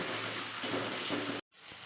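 Masala sizzles and fries steadily in a pan while it is stirred for matar paneer, a loud broadband hiss with faint scraping, cutting out abruptly near the end before resuming more quietly.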